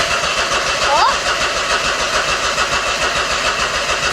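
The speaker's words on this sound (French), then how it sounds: "Au moins le démarreur fonctionne. Ouais, au moins le moteur tourne." A Smart Brabus that had been off the road for over a year, its tank run nearly empty, cranks on the starter and catches, engine running steadily and loud throughout with voices talking over it.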